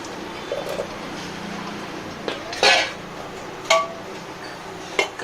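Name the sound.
putting raw jackfruit into a pressure cooker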